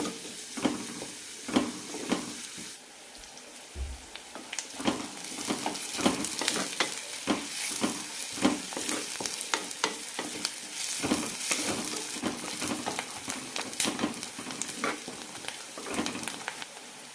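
Sliced onions and curry leaves sautéing in a pan for a potato kurma, a continuous close sizzle broken by frequent rhythmic clicks and scrapes of a spoon stirring, with no talk.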